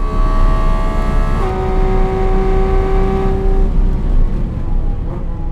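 A Porsche 911 GT3 RS on a race track runs hard at steady high revs, its engine tone climbing and then stepping down as a gear changes, loud and continuous with no talking.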